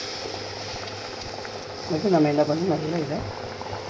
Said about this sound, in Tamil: கொஞ்சமாக சூட வச்சு தண்ணி, அதாவது வெந்நீர் ஊற்றணும்